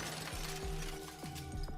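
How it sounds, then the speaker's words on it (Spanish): The glass window at the rear of a panoramic train car shatters in a 1986 head-on train collision in the Rockies, a continuous crunching, breaking wash with creaking, sweeping tones over it. "lo que hice fue romper el vidrio con la cabeza"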